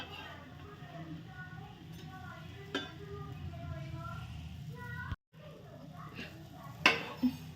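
Green chillies sizzle steadily in hot oil in a pan, with a scrape and clatter as they are flipped near the end, under someone talking throughout.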